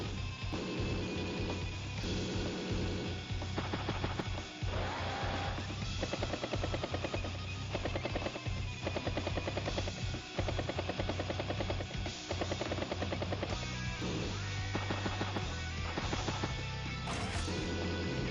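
Command copter attack in the Advance Wars: Days of Ruin video game, heard as continuous game music and effects with rhythmic thumping hits and crunchy impact bursts, densely layered and steady in loudness throughout.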